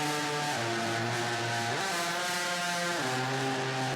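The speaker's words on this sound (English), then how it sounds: "So this is my voice with a lot of distortion and a formant increase." A sung vocal layer processed with heavy distortion and a raised formant, giving a harsh, buzzy, synth-like tone that holds steady notes and steps up and down in pitch. It plays loud and alone, with no talking.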